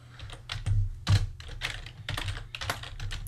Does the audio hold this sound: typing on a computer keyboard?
yes